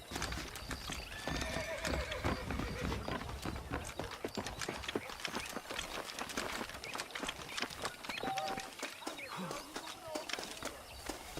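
Horse hooves clip-clop in a fast trotting rhythm in Red Dead Redemption on Xbox 360, with a horse neighing and snorting, background game sounds and voices talking alongside.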